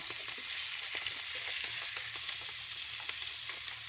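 Garlic sizzling as it is sautéed in a pan with oil, a steady close frying hiss with small crackles and pops throughout, no voices.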